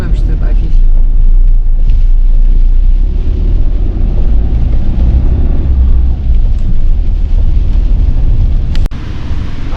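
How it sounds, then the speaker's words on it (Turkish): Strong storm wind buffets a caravan in Turkey, a loud continuous low roar and rumble with gusts that persists for the whole stretch and barely lets up. "Rüzgardan kaçtık ya, rüzgara geri geldik."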